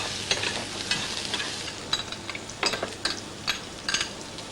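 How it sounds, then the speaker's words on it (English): Potatoes sauteing in olive oil in a pan, a soft steady sizzle with scattered clicks and scraping taps of stirring, close and fairly quiet, no talking. "We saute the potatoes as well."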